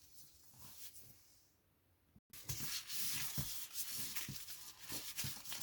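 Cocoa biscuit dough for crisp leopard-pattern cookies is worked and kneaded by hand, a soft close rubbing and squishing that grows denser and more continuous after a brief pause.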